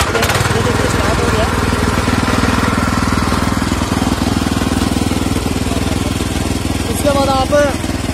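A power tiller rotavator engine runs steadily after starting, giving a loud, continuous chugging drone with a few brief higher squeals near the end.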